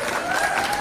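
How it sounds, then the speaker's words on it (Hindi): Audience applause at a school annual function, a short steady wash of clapping with a faint tonal hum running through it, loud and continuous. "एक बार जोरदार तालियां बजाओ"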